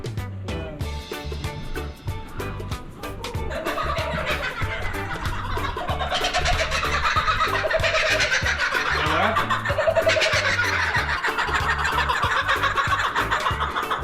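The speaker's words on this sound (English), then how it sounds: "A kookaburra." A kookaburra calls at a bird park, its loud, repeated cackling laugh rising in rapid rhythmic bursts that grow fuller and busier over the second half.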